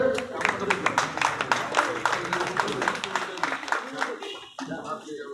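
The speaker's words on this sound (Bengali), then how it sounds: "সকলে একবার করতালি দিয়ে" An audience at a Trinamool Congress campaign gathering in Panihati claps for Nirmal Ghosh, a run of many quick overlapping claps under an amplified announcer's voice that fade out near the end.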